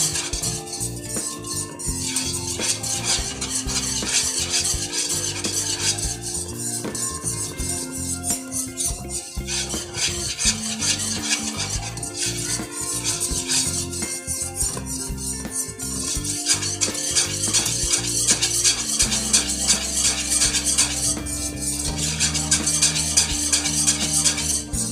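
A whisk stirs milk in a pan over very low heat while making condensed milk from milk powder, giving a steady close scraping and clinking that runs continuously over a constant background hum.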